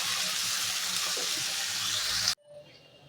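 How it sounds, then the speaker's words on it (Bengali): Cauliflower, beans and potatoes frying in a pan produce a loud, continuous close sizzle that cuts off abruptly, followed by a quiet tail. "এই যে এখানে ফুলকপি, শিম, আলু ভাজা করছি।"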